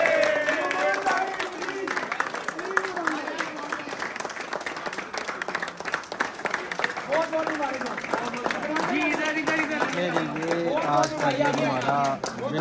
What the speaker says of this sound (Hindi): मैं आप सबसे रिक्वेस्ट करूंगा कि एक दफा भरपूर तालियां आपने बजाई